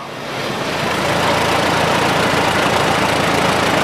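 A 1948 IH Cub tractor engine runs steadily close by in a county fair parade, a rough, continuous mid-pitched drone that builds in the first half second and then holds level with no talk.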